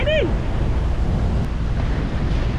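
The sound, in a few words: wind blowing at sea on a sailing boat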